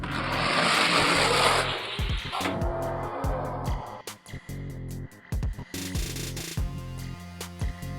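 Hot Wheels diecast cars race down a drag track in a brief loud rush of rolling plastic wheels. Sharp clacks and rattles follow as the cars finish and settle.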